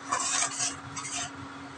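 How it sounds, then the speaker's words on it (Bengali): Spice masala being sautéed in a pan for a vegetarian doi potol dish, with a soft scraping stir and light sizzle in a few close strokes. "এবার আমি 2-3 মিনিট কষিয়ে নেব।"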